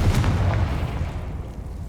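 A Confringo fire spell explodes in Hogwarts Legacy, a deep booming blast that fades into a rumbling low tail over about two seconds, with no voices.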